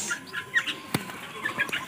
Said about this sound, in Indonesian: Ini dia anak-anak podangnya.